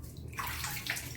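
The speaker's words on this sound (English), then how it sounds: "Add some warm water to like a little milky consistency." Warm water is splashed onto a handful of oats for a face mask, a short soft trickle and slosh that is fairly quiet and close.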